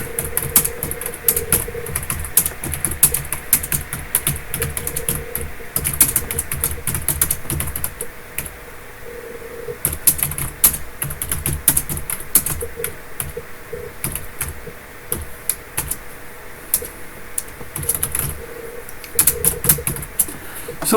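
Steady computer-keyboard typing with dense, irregular key clicks runs throughout at close range, with brief pauses and no talking.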